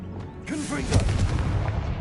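A Confringo blasting spell in the video game Hogwarts Legacy erupts as a deep, rumbling boom with a sharp onset and a sustained low roar. A short voiced cast comes just before it.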